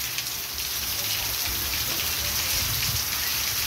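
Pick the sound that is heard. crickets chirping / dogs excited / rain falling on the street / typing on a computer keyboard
rain falling on the street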